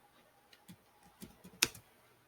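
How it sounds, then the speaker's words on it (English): A few light, scattered keystrokes on a computer keyboard, quiet and close, with one sharper click standing out near the end of the short burst. "Let me type that down for you to see"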